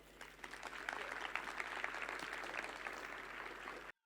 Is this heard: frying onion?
no